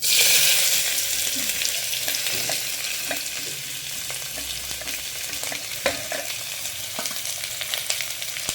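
Chopped onions sizzle and crackle in hot oil with curry leaves and garlic, a steady bright hiss with scattered pops and the occasional stir.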